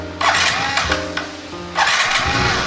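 A flood-damaged SA55 scooter engine running roughly and unevenly, with loud bursts of revving that rise and fall as the idle hunts, heard up close.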